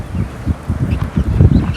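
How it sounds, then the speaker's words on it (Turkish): Pekin and Indian runner ducks quack in a farmyard flock, a rapid run of loud, close, overlapping low quacks in uneven bursts. "Pekin ördeklerimiz var. Hint asker pompon şeklinde veya Hint asker ördeklerimiz var."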